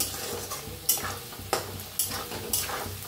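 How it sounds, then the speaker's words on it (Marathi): Potato pieces frying in hot oil in a home kitchen, cooked for sabudana khichdi, give a steady soft sizzle. A few sharper stirring scrapes from a utensil in the pan break through it. "मस्त असं तेलात भाजलेले आहेत बटाटो"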